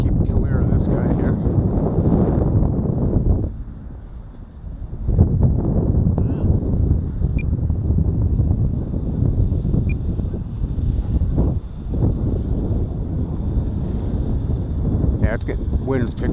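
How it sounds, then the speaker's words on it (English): Strong, gusty wind of about 15 to 16 mph at an RC model airfield buffets the microphone with a loud, continuous low roar that eases briefly and then surges back for the rest of the stretch. "Wind's picking up big time."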